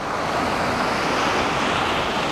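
Ocean surf rushes in a steady broadband wash, loud and close, with wind buffeting the microphone.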